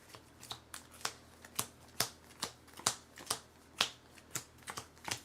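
Playing cards being shuffled and riffled for an Earthborne Rangers board game session, a quick irregular run of crisp flicking bursts close by, with no talking.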